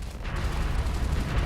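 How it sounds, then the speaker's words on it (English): Dense, continuous spaceship weapon fire from the space combat game Starsector rumbles as a steady low barrage with no pauses. "I do love the sound of constant gunfire after all."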